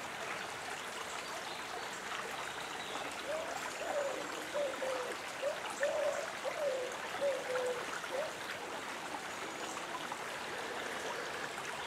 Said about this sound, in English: Stream going all the way down there.